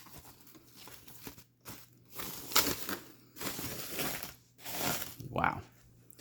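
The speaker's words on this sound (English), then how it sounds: "time to unwrap this beast of a console" Plastic wrap being peeled and torn off a new Xbox Series X console, giving bursts of close crinkling and tearing in several separate pulls with short pauses between them.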